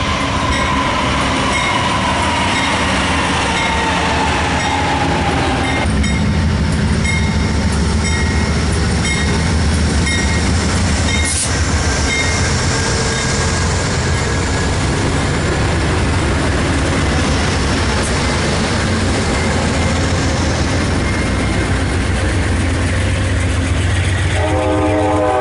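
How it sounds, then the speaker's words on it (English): An eastbound passenger train bound for Los Angeles rolls past near Gallup, its horn blaring loudly at the start, followed by a long, steady rumble of wheels and cars passing close by, with no speech. "here comes the one eastbound passenger train, bound for California, Los Angeles at 8 AM tomorrow morning."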